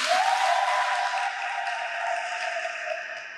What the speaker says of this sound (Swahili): tumshukuru Mungu kwa makofi kabisa